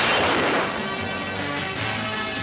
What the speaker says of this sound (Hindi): ये तो रियल में गोली चल रहा है